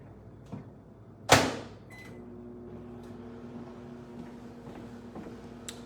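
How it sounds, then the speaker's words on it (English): A microwave oven heating creamy polenta starts with a sharp door slam or button thud, then settles into a steady low hum and whir, close and even, with faint clicks and no talking. "So let's pop that into the microwave."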